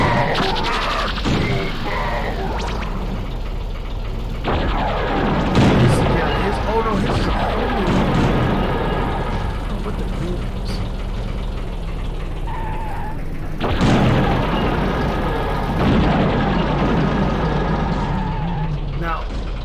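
Combat in the vehicle game Twisted Metal 2: a continuous rumble of engines under repeated blasts and bursts of gunfire, with louder explosive surges midway and again later, and a voice talking over the action.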